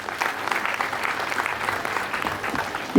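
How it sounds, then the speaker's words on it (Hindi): Steady, dense applause from an audience at a panel discussion at a language festival, welcoming a guest with continuous clapping that holds evenly for several seconds. "आशीष के लिए जोरदार ताली बजाएंगे"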